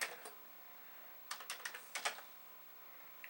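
Keys pressed on a Vic-20 computer keyboard, a few scattered clicks followed by a quick burst of several crisp taps, then a short pause and more, all close and fairly quiet in a still room.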